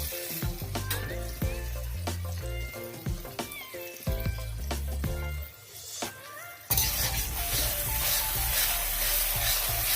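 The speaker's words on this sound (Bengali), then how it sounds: "এবারে মশলাটা ভালোভাবে কষে নিলাম।" Cumin powder, chili, cinnamon, cardamom and cloves fry and are stirred in a pan for chicken dak bungalow, a loud steady sizzle that bursts in over the final few seconds after a stretch of tonal background.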